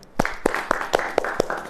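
A church congregation claps along during a Hindi sermon, six or seven sharp, evenly spaced hand claps ringing out in a steady rhythm, fairly close and loud.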